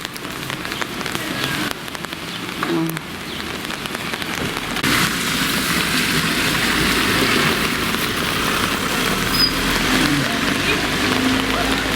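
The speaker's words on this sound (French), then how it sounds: "Mais il pleut toujours." Steady rain pours down outdoors in Dijon, a broad hiss that grows louder and denser after the first few seconds, with faint background murmurs.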